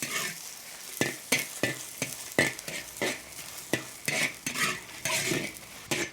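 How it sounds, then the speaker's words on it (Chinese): Sichuan knife-edge dried chili stir-fried in hot oil in a wok, with a metal spatula scraping and tossing in a steady rhythm over a continuous close sizzle. "锅里面烧点油啊， 炒个刀口辣椒"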